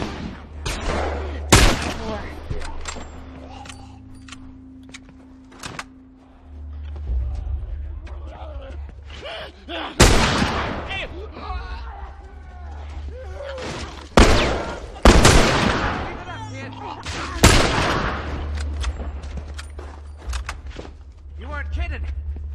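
Gunfire in The Last of Us, during the hunt chapter: repeated loud shots and bursts ring out across the scene over a steady low rumble, with people talking in between.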